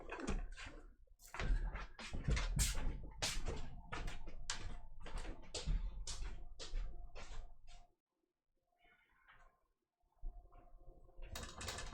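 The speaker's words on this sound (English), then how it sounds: "You'll hear me shuffle away." Someone shuffles away from a desk, a run of close scuffs, knocks and clacks lasting several seconds before fading to near silence. A few faint rustles follow, then more light knocking near the end.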